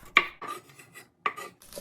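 A knife slices Sweet Angel grape tomatoes in half on a cutting board, giving several crisp, close cutting taps in an uneven rhythm with soft scraping between them.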